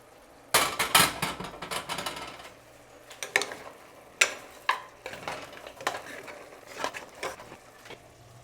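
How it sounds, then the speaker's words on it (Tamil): Mutton sautéing in oil in a pan, with spoon clatters and scrapes against the metal over a soft sizzle, coming in uneven bursts at close range. "இப்போ ஒரு 5 நிமிஷம் வதங்க விடலாம் எண்ணெயில்"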